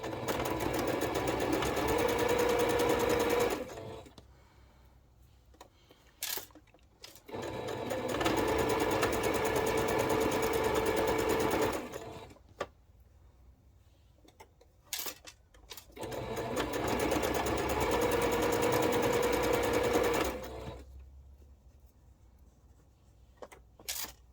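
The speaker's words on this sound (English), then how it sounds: "we're going to chain piece these through using a 1/4 inch seam allowance" Sewing machine chain piecing quilt block pieces with a quarter-inch seam, three sustained runs of rapid mechanical stitching, each several seconds long, separated by short pauses with faint handling sounds.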